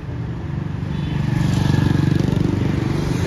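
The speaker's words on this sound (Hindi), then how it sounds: "मोटरसाइकिल की आवाज देखियो" A motorcycle engine idles steadily nearby with its filter cover removed, a continuous low rhythmic throb that swells slightly louder midway and keeps its even pulse throughout.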